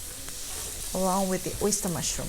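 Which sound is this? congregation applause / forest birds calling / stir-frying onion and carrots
stir-frying onion and carrots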